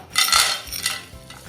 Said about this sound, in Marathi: बाकीचा सुद्धा आपण थोडासा डिंक पुन्हा तळून घेऊया